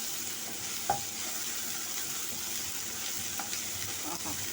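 Ginger garlic paste frying in a pan while being stirred, a constant soft sizzle with a few sharp scrape and tap sounds from the spoon, fairly close and without talking.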